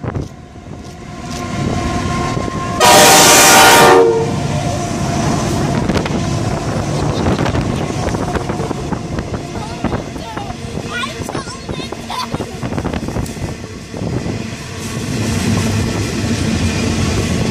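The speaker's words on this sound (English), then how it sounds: "And as that approaches, we have a Hunter Valley rail car." A Hunter Valley rail car approaching a station platform at Beresfield, with a loud sustained horn blast early on followed by rolling rail and engine noise under wind buffeting; someone talks over it.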